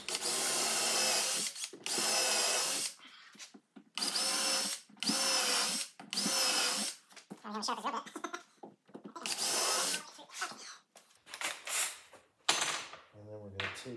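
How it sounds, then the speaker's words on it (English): A power drill whines in repeated short bursts, spinning up and stopping as it bores pilot holes in a wooden guitar body, close by with brief quiet gaps between. "I like to always use pilot holes when I drill holes"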